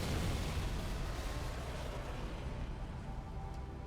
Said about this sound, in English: I saw that explosion from orbit.